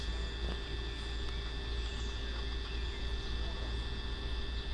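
A Schwing BPA 500 concrete pump engine holds a steady 2,300 RPM, producing a constant droning hum with a fixed tonal whine, close and unbroken throughout.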